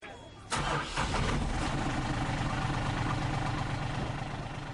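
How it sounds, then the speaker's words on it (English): A truck engine cranks and catches after a brief click, then settles into a steady low idle nearby. "the engine started with just one turn of the key"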